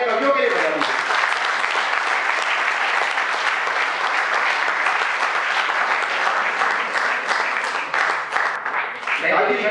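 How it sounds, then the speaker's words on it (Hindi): An audience at an IIT kavi sammelan comedy poetry evening gives the poets loud, sustained applause, a thick wash of clapping that holds steady for nearly ten seconds before thinning at the very end. "तो एक बार जोरदार तालियां कवियों के लिए बजा दीजिए"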